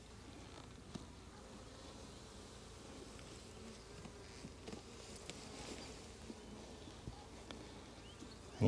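Honey bees swarm around a feeding bag on a farm in Portugal. Their busy buzzing forms a faint, continuous drone with a few small ticks and taps, and no one speaks.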